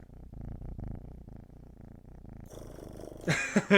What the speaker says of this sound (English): Maybe you can hear him like purring,